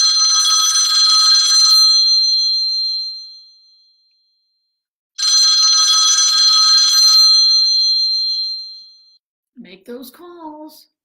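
A telephone rings in two long, bright trilling bursts separated by a few seconds of silence during a session of dialing calls, followed by a short spoken voice at the end.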